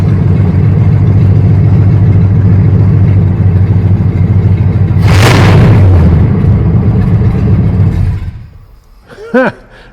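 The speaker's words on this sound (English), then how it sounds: "this car is suddenly shuttered to life" A project car's freshly installed engine catches on its first start and runs roughly at a loud, uneven idle with a sudden surge partway through, then cuts out abruptly, followed by a brief squeak.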